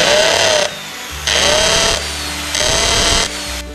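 A power drill whines loudly in three bursts, boring holes into wood for carving a wall clock, with short quieter pauses between each run.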